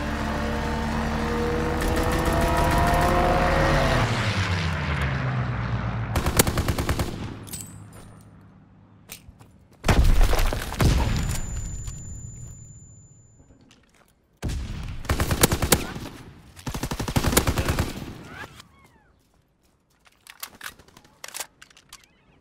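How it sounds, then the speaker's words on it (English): Video game fighter pilot strafing run: a long roaring engine pass with bursts of rapid gunfire, followed by several separate loud sharp volleys with short quiet gaps between them. "Fighter pilot inbound, strafing the target!"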